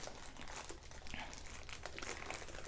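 Plastic packaging around a diamond art canvas crinkles continuously as it is pulled open, close and steady.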